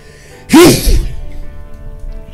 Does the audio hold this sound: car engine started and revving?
no